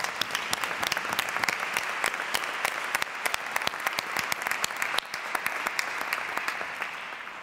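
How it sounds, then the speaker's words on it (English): Sustained audience applause at a financing conference, dense clapping from a large crowd filling the room steadily for several seconds with no voices over it. "give all our speakers a round of applause for their excellent contributions"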